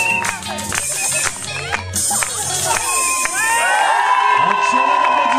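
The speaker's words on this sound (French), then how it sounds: "Excellent applaudissement pour les deux jeunes filles." Wedding guests in Bondy cheer and shout with children's voices among them, a loud, lively crowd with whistles and calls rising above the noise and continuing throughout.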